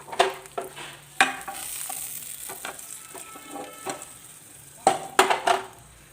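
Hot tempering of mustard seeds, curry leaves and sambar powder tipped into a pot of sambar gives sharp clatters and brief sizzling bursts. Two loud clusters of clinks come near the start and near the end, with softer stirring scrapes between them.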